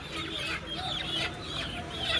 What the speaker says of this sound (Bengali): এগুলো সোনালি মুরগি